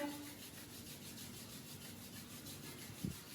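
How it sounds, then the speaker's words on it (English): Hands rubbed together at the close of a vinyasa yoga flow: a soft, steady rhythmic swishing friction, quiet and close, ending in a small bump, with no talk. "just rub your hands one against the other."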